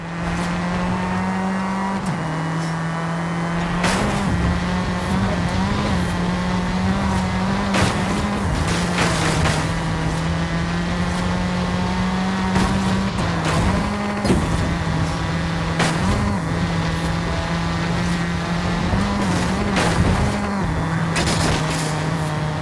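A race car driven hard in Forza Horizon 5 roars continuously with a steady engine drone, gear shifts and bursts of tyre squeal from drifting, loud and close throughout.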